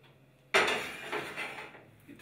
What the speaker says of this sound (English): Then you take your saucepan,